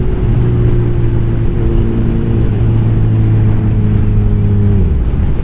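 A Kawasaki Ninja 1000SX motorcycle being ridden, a loud, steady engine drone with wind rush and a slowly shifting pitch that drops at the end, heard without speech.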